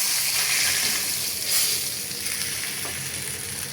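Rupchanda (pomfret) fish frying lightly in hot oil, a steady close sizzle with soft bubbling that continues throughout without talk.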